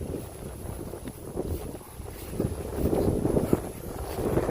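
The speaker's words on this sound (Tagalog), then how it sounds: "sobrang hangin, magalaw yung damo." Strong wind gusting across open grassland, a steady rushing roar with rustling bursts and rising buffeting against the microphone, no voices.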